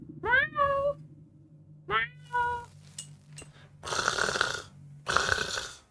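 A person imitates a cat with voiced meows and breathy, snore-like rasps, close and loud, in short bursts separated by brief pauses.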